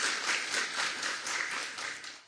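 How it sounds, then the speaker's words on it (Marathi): Audience applause welcoming political guests at a Patan constituency election debate in Satara district, a dense, steady wash of many hands clapping throughout, fairly loud and without talk. "एकदा जोरदार टाळ्या, सगळ्यांचं स्वागत."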